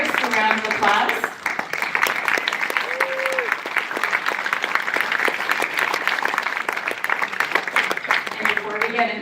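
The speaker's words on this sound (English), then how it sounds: "Let's give the artists a round of applause." An audience claps for artists after social justice art performances, sustained dense applause filling the room at close range, with a voice speaking over it near the start and end.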